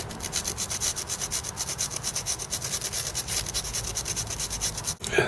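Steady, rapid back-and-forth rubbing as a rag wipes WD-40 over rusty metal on an NEC PC Engine CoreGrafx II under repair, close and fairly loud with an even swishing rhythm, then a brief bump near the end.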